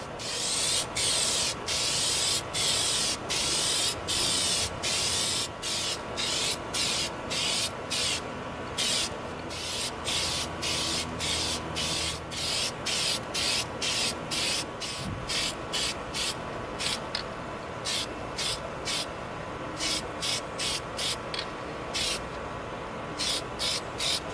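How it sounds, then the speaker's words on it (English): Repeated short bursts of an aerosol can of Plastidip hissing as it coats an EVA foam prop gun, one after another in a fairly regular rhythm, close by and loud. "We're going to begin coating our graffiti gun with our Plastidip."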